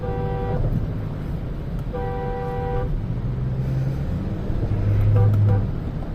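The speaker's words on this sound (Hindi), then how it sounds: "जैसे ही किसी के पास जाके हॉर्न मारोगे तो अपने आप आपको रास्ता मिल जाएगा" A Mahindra Scorpio N horn sounds three times in road traffic: two longer toots and a short final one, loud and close over a steady engine and roadway rumble.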